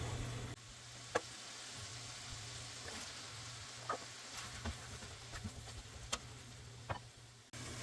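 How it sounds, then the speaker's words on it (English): Garlic and veggies sizzling in hot butter and olive oil, a faint steady frying hiss with scattered small pops and ticks, no talk. "I'm going to let that get hot, and then I'm going to put my garlic and veggies in"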